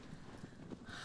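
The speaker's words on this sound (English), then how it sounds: "At least now I know how to sprint with the horse" A horse sprints in the video game Shadow of the Colossus, its hooves beating a steady, rapid clip-clop throughout over a soft wash of game ambience.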